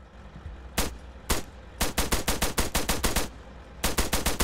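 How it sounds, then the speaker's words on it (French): Rapid gunshots crack out in the video game Arma 3: two separate shots, then a quick rhythmic burst of a dozen, a pause, and another short burst, with no talking. "j'y mets des balles, j'y mets des balles"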